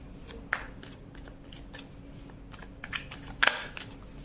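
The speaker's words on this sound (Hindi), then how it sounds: "कार्ड को शफल करते हैं" Tarot cards being shuffled by hand in a quiet room, a soft continuous riffling with a couple of sharper slaps as the deck is squared.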